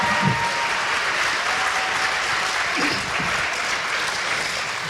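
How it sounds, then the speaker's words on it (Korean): A live audience at a year-end citizens' event applauds steadily to welcome a guest writer onto the stage, a dense, even wash of clapping that holds for the whole stretch without speech. "여러분 박수로 환영해 주시기 바랍니다"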